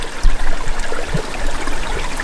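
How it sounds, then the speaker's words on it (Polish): Water from a spring flows and trickles steadily through a beech forest, a close, continuous gurgling wash with a few soft splashes. "O, właśnie tutaj płynie woda,"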